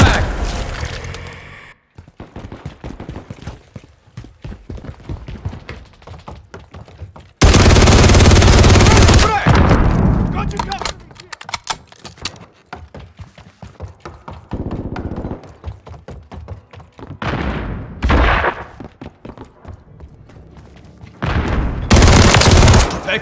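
Bursts of WSP Swarm submachine gun fire in Call of Duty MW3 Team Deathmatch on the Breenbergh Hotel map, loud rattling volleys separated by quieter stretches of scattered shots and game sounds.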